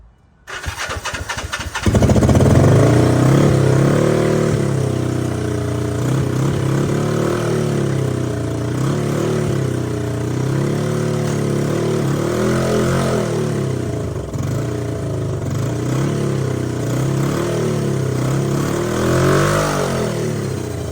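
A 1974 Honda CB500 motorcycle engine cranks and catches, then settles into a loud, steady idle with a rough, uneven pulse that lasts about twenty seconds, close to the machine and without talk.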